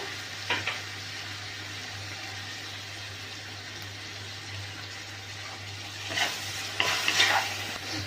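Chilli chapati masala with tomato and soy sauce sautéing and being stirred in a pan, a steady soft sizzle with a few scraping stir strokes near the start and end, close by with no talk.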